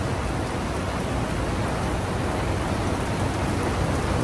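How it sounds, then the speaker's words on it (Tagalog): Heavy rain pours steadily and loudly close by, a dense, even hiss of drops striking surfaces with no pauses and no voices. "Nabot pa kami ng ulan"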